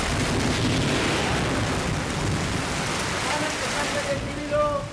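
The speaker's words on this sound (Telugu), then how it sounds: "వర్షం ఇంకా పెద్దదైంది" A heavy downpour pounds steadily and loudly throughout, a dense continuous hiss of rain with a voice faintly present near the end.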